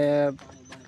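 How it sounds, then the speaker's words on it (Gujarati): A pigeon gives a single short, close coo, then quiet, at a Mahadev temple set in the middle of the Bili Gala forest. "અહીંયા કણે મસ્ત મજાના પક્ષીઓ કલરવ કરી રહ્યા છે"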